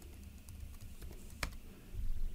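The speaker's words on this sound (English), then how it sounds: "we'll type our password for our encryption" A password is typed on a computer keyboard: a short run of quiet, close key taps with one sharper click midway, no talking.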